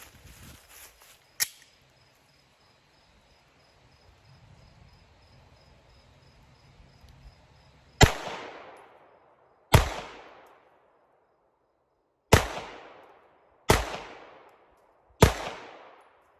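A ported S&W M&P 2.0 Performance Center pistol fires Winchester white box 115-grain ammunition: five loud, sharp shots spaced a second or two apart, each with a quick decaying ring, after a quieter lead-in.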